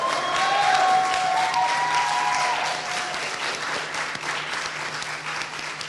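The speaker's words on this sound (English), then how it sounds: "Let's give ASU a huge round of applause." A large audience at a Model African Union assembly gives a long, loud round of applause, steady dense clapping that eases slightly in the second half, with a faint tonal hum beneath.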